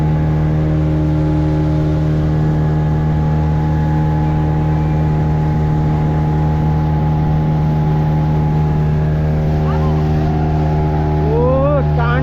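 A speedboat's steady engine drones loudly on the Massanjore Dam reservoir as it swings round near the barrier, with a continuous hum under faint voices.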